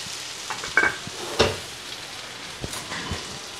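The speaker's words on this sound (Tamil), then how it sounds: "இப்போது கத்திரிக்காய் ஓரளவுக்கு வதங்கிடுச்சு." Eggplant with curry leaves and coriander sizzles in a pan, a quiet steady fry broken by a few clear scrapes and knocks of stirring, with no talk.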